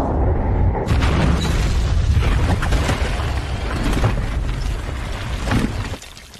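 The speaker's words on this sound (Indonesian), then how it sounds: "terjadilah ledakan besar" A huge booming explosion bursts in and rumbles loudly for several seconds before cutting off abruptly.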